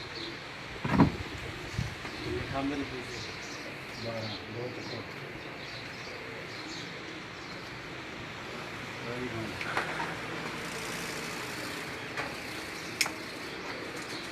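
Pigeons coo repeatedly at a pigeon-flying competition, with occasional sharp sounds over a busy outdoor background and people talking intermittently.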